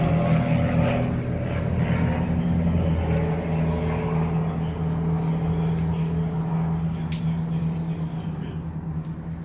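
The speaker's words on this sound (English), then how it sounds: "So as you can see, the vehicle's still running." A car engine idling steadily during a California smog check, a low constant hum with a faint steady drone, no voices.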